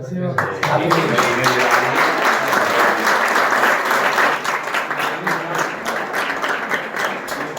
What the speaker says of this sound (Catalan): li pots dedicar un aplaudiment